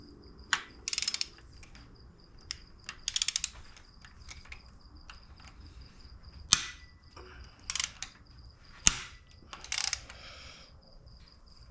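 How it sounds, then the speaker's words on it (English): Head bolts being loosened on a Jaguar AJ133 5.0 engine with a T55 bit, giving sharp ratcheting clicks and metallic cracks in irregular bursts, close and fairly loud, over a quiet workshop background with no talk. "Alright guys, so time to remove the head bolts."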